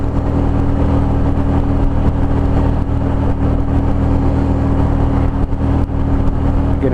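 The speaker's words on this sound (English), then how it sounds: "You can hear the motor, which is really nice. It's got a good sound to it now." A 2013 motorcycle with a 998 engine runs continuously while riding on the road, a loud, steady low-pitched drone with rushing wind, close and unbroken throughout.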